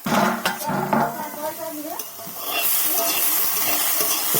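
Vegetables, bottle gourd peel and cabbage, fry in a pan as the covering plate is lifted: a few clattering knocks and stirs come first, then a steady loud hiss of sizzling oil takes over.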